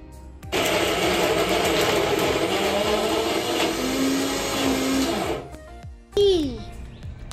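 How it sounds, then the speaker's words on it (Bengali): A blender grinds about 150 to 200 grams of minced meat into a paste, running loud and steady for about five seconds before it stops, followed by a brief voice and a clatter. "আপাতত এখানে আছে 150 না 200 গ্রাম কিমা, সেটাকে এবার একবার পেস্ট করে নেব"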